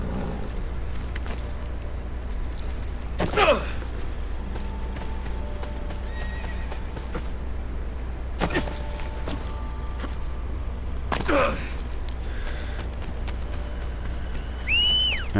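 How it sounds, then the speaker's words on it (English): In the video game Assassin's Creed: Brotherhood, a horse's hooves clop steadily under repeated loud whinnies and neighs that rise and fall, with a few sharp animal calls near the end and no talk. "My damn horse always keeps pushing me."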